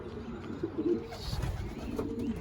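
Racing pigeons in a loft coo softly, giving a few low, rounded calls close by against a quiet background.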